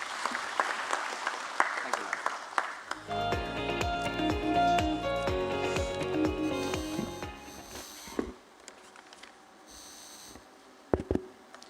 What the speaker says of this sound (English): Can we have a big round of applause for him?